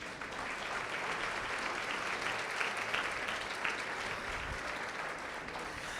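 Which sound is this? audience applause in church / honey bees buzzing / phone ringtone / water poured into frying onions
audience applause in church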